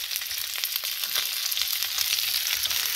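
Earl Campbell's Red Hot Links sausages frying in a pan give off a steady, close crackling sizzle with dense popping, continuous for the whole stretch and with no voices.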